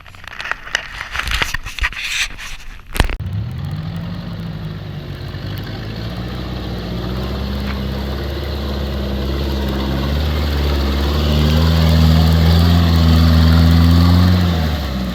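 A military vehicle's engine revs up and holds a loud, steady drone while tackling a water obstacle on an obstacle course, after some clattering scrapes at the start.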